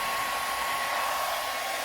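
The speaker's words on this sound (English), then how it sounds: "So we need to use the heat gun to remove the ductwork from the old fitting." A heat gun blows steadily at close range in a home garage, softening old ductwork so it can be pulled off a fitting on a BMW 335i, a constant loud airy hiss with no talk.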